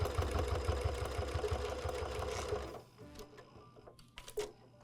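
Sewing machine stitching fabric gift bows, running in a fast steady mechanical chatter for nearly three seconds and then stopping, followed by faint handling noises.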